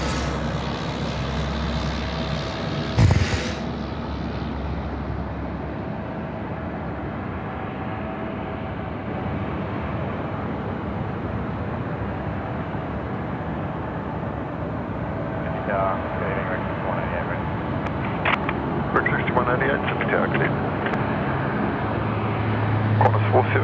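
A Boeing 747 cargo plane arriving at Sydney Airport at night, a broad distant jet roar holding steady and slowly swelling, with occasional voices over the rumble.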